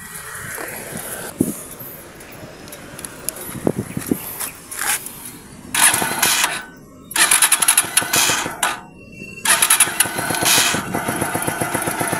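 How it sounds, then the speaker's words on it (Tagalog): A motorcycle engine, freshly repaired with a new connecting rod, crankshaft and clutch housing rubber damper, cranks over several times with sputtering attempts, then catches into loud, close bursts of running and revving with brief drop-outs. "Okay, so i-start natin siya ngayon."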